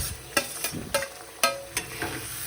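Satara-style mutton curry masala being fried in oil and stirred: a soft, continuous sizzle broken by rhythmic spatula scrapes roughly every third of a second, close and clear.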